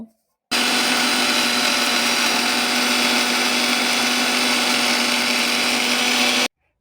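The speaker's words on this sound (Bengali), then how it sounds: "এটা এবারে দিয়ে মিক্সিতে ভালো করে পেস্ট করে নেব।" A mixer grinder blends raw turmeric and ginger into a paste, a loud, steady high-pitched whir that starts abruptly, holds constant for about six seconds, then cuts off.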